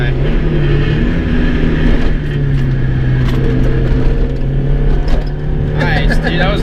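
Turbo Mazda Miata with Flyin Miata sway bars cornering: a steady, close engine drone holds throughout, with a brief rising whine near the end.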